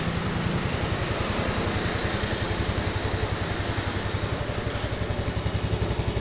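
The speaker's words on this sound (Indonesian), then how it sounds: "Kita coba nyalakan mesinnya dan dengarkan suaranya" A Mio 125 motorcycle engine idles steadily at close range with a loud, rapid, even low-pitched chugging, running continuously without pause.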